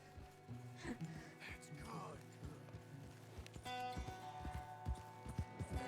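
Hooves of a horse in a video game clip-clop in a steady walking rhythm, fairly close, over a bed of sustained game music and ambience.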